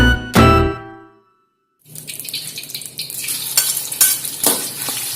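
Ground spice paste with chilies, ginger and turmeric, tipped into a pan and stir-fried for Manado-style ayam leilem. A sharp metallic clang and ringing come first, then a brief pause, then a dense close sizzle with scraping stirs.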